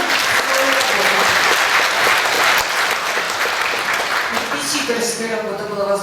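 Audience applause fills an opera introduction for Chanar Khus, dense and steady clapping from a large hall crowd that carries on throughout, with a voice starting to speak over it near the end.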